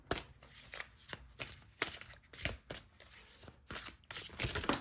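Tarot cards drawn and handled at close range, a run of quick papery flicks and riffles in uneven bursts, fairly quiet, with no one speaking.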